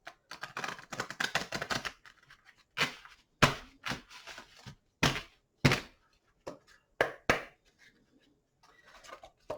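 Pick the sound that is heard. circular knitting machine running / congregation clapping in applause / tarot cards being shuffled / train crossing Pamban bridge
tarot cards being shuffled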